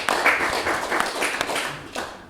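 Audience applause after a poem at a poetry reading, a steady wash of many hands clapping close by for a couple of seconds, fairly loud and continuous with scattered sharper claps.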